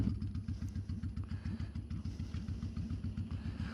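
A motorcycle engine idles at a traffic light, a steady low, even pulsing throb that stays loud and close throughout, with no talk over it.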